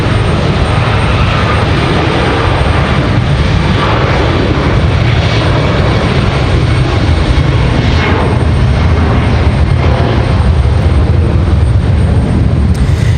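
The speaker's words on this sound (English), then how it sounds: "Alaska Airlines off to Seattle, Washington." Alaska Airlines jet airliner departing Raleigh Durham International airport on a flight to Seattle, a loud steady engine roar filling the whole span with broadband rumble, no talking over it.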